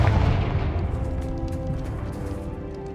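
A fire-blast spell bursts in a fantasy game, a loud booming explosion at the start that rumbles and fades over a few seconds into a steady low roar.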